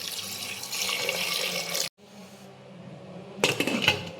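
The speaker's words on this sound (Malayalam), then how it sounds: "വെള്ളം ഒഴിച്ച് കൊടുക്കുക." Water pours into a pressure cooker holding jackfruit seeds with salt and turmeric, a steady broad splashing stream that stops briefly and then resumes with brighter gurgling splashes, heard up close with no talking.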